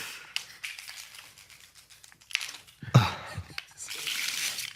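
Playing cards shuffled by hand during a casual game night among friends, a few uneven bursts of riffling and rustling with a sharper snap partway through, close and fairly soft.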